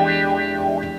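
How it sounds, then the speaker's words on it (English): A distorted electric guitar chord through a Randall T2 amp simulation sustains while a wah effect sweeps its tone up and down, giving a vocal, wavering quality. "Let's try the wah-wah."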